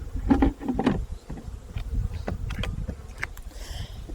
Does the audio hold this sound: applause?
no